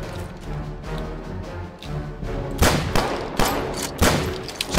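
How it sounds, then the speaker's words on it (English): Submachine gun fire in a video game battle against riflemen, with sharp bursts of shots from about the middle onward over constant game background noise. "Let's get the old SMG out"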